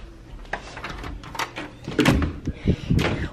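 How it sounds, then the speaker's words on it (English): Key unlocking and opening the door to a cottage guest unit, a few sharp clicks and knocks with a louder thud and rattle as the door swings open near the end, close and clear. "We get a key, you have to open this door."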